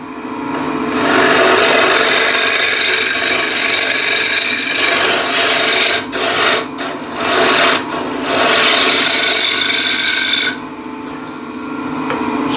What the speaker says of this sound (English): Back with the ball gouge.